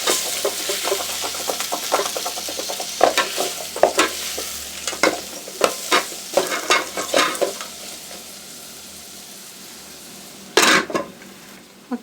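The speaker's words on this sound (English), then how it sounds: "Give it a stir." Chicken biryani masala fries in a pot as a spoon stirs it, giving a steady sizzle broken by repeated scraping and clinking strokes against the metal, louder in bursts with a sharp knock near the end.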